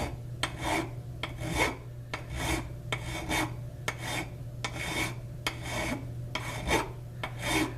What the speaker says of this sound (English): it's going to be like 15 minutes of filing.